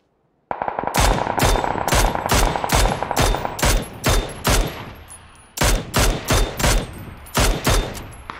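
Automatic gunfire in the video game PUBG: loud, rapid bursts of sharp shots in a steady rhythm, each crack ringing out, with a short lull midway before the firing resumes.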